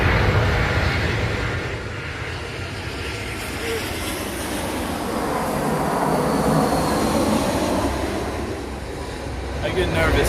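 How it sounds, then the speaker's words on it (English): A Spirit Airlines airplane flies overhead as a broad, steady jet roar that swells at the start and end, heard outdoors at a disc golf course with people talking faintly. "I get nervous every time Spirit Airlines flies over."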